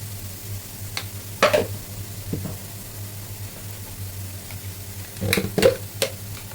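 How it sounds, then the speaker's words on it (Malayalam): Fried brinjal with salt, chili powder and turmeric is stirred in a pan, with a low quiet sizzle and two clusters of scraping, clattering spoon strokes against the pan. "ഇതിനെ നന്നായിട്ട് ഇളക്കി യോജിപ്പിക്കണം. ഒന്ന് വാടി വരുന്നത് വരെ ഇളക്കി കൊടുക്കാം കേട്ടോ."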